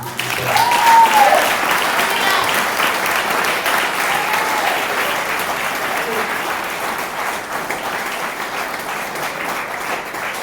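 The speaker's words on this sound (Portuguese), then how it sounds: "dê um aplauso ao Senhor" A congregation at a church conference applauds, loud sustained clapping from a large crowd with a brief whoop early on, steady to the end.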